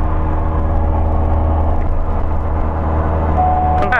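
Steady, loud cabin drone inside a Tecnam P2006T twin-engine plane climbing with its right engine pulled fully back, a continuous low rumble of the remaining engine with no change in rhythm.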